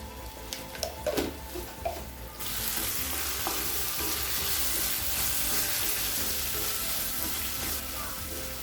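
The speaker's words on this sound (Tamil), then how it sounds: "மிளகாத்தூள் வாசனை போக 1 நிமிஷம் வரைக்கும் நல்லா வதக்கிக்கலாங்க." Chicken masala with chili powder, turmeric, coriander and garam masala sautés in a pan, giving a loud continuous sizzle after a few stirring clinks at the start, close up with no talking.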